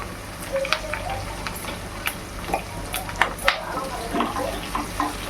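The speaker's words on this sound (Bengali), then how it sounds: "আর পেঁয়াজ একটু হালকা ফ্রাই করে নেব।" Onions fry lightly in a pan for paneer manchurian, a soft sizzle with scattered clicks and taps of stirring, close and moderate in level.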